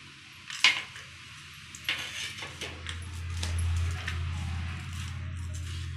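Peanuts and sugar are mixed together in a bowl, with a spoon scraping and clinking against the sides in irregular strokes over a low steady hum.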